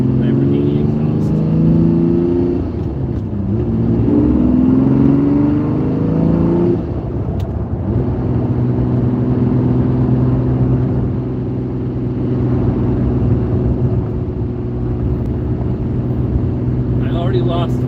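Lamborghini Diablo V12 with an aftermarket exhaust cruising on the road, a loud, steady droning engine note that shifts pitch slightly partway through, with someone talking over it from inside the car.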